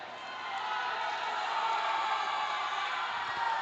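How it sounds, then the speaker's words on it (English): A loud crowd at a youth basketball championship game in Mindanao, the Philippines, roars continuously, a dense steady wall of cheering voices that swells slightly and holds. "You can hear the loud crowd of Parola Panaon"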